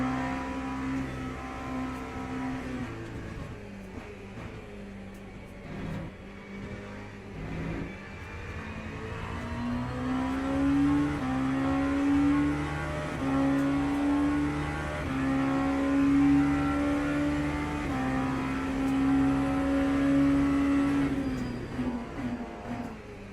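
A race car engine in Le Mans Ultimate during an endurance race at Bahrain drones steadily, rising in pitch through repeated upshifts and revving hard between gear changes, loud and continuous throughout.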